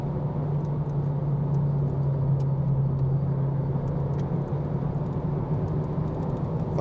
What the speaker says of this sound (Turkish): Biraz turbodan ses geliyor.